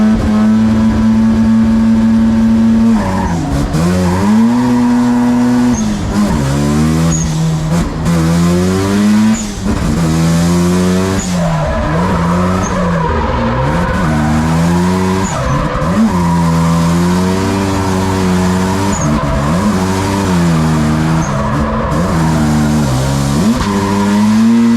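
A drift car skids through a drift battle at a Spanish championship final, its tires squealing in long, wavering howls over a loud, revving engine that rises and falls continuously throughout.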